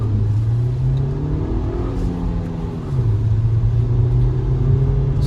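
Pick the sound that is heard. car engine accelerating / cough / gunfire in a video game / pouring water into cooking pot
car engine accelerating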